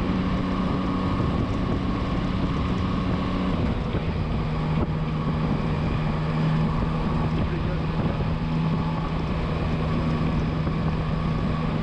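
A Yamaha Tracer 9 GT motorcycle engine drones steadily while riding, blended with constant rushing wind noise at an even, loud level throughout.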